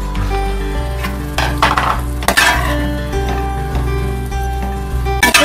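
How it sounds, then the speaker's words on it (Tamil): Cooked rice is stirred into mint gravy in a pan with repeated scraping spoon strokes and occasional clinks, over a faint sizzle and a steady low hum, close up with no talking. "இப்போ நம்ம எடுத்து வச்ச ரைஸ் இதில் போட்டுக்கலாம்."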